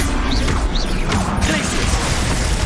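Incendio fire spell being cast in Hogwarts Legacy, a loud whooshing, crackling burst amid clattering mechanical combat effects and dense game noise.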